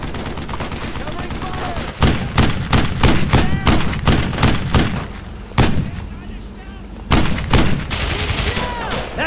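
Sustained rifle and machine-gun fire in the World War II shooter Brothers in Arms: Road to Hill 30, dense overlapping bursts and single cracks close by, repeated sharp volleys with brief lulls, loud and relentless.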